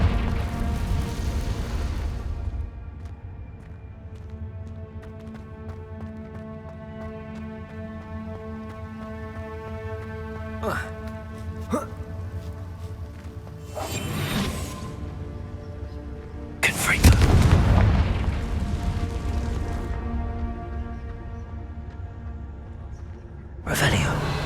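Confringo spell blasts in Hogwarts Legacy, with a few sharp bursts and booming impacts rising over a steady droning game soundtrack, the loudest hit landing near the middle, while a voice speaks briefly.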